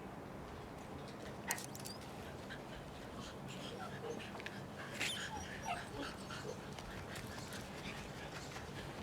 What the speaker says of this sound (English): Stop and pet the dog.